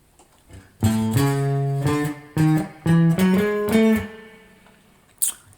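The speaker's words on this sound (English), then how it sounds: "So this next thing is what I'm calling the end riff" A distorted electric guitar plays a short blues end riff over the last bars of a 12-bar progression, sustained bent notes and quick stabs, loud and close, ending with a brief pick noise.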